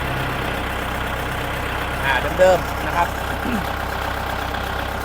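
A Kubota L5018SP tractor engine idles steadily nearby, a constant low mechanical hum with faint knocking, while someone speaks over it.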